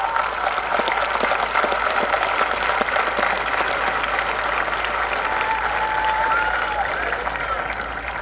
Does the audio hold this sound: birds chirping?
no